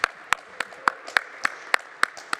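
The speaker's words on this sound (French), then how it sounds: "vous pourriez applaudir notre amie Faustine" An audience at a round-table discussion on leather as a durable material claps together in a steady, evenly spaced rhythm, about nine crisp beats heard at moderate distance with no talking.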